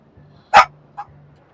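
A dog gives one sharp, loud bark followed by a softer second bark, close by against a quiet room with a faint hum.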